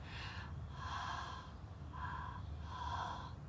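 A storyteller's voice imitates creepy carrot breathing: slow, heavy, raspy breaths drawn in and pushed out in a steady rhythm, about four close, loud breaths with short pauses between them.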